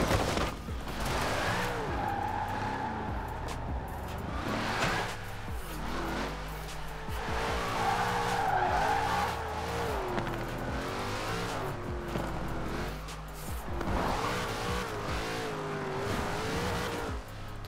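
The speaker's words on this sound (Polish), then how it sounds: "jest niebo a ziemia, jeśli chodzi o driftowanie tym autem" In Forza Horizon 4, a car drifts with its engine revving and falling in pitch as it accelerates, while tires squeal in intermittent bursts, close and continuous with no talk.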